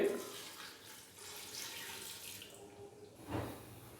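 A glass of water runs and splashes steadily into a cooking pot of mutton karahi with turmeric, a continuous watery hiss with a brief louder gush near the end.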